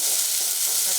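Onions sautéing in a pan for veg masala idiyappam, a loud, steady, close-up sizzle with stirring and no voices.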